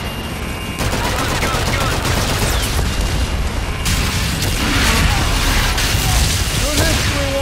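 An aircraft gun run strafes in the Call of Duty Infinite Warfare video game: loud, sustained rapid gunfire with booming impacts rolls on without a break, dense and close.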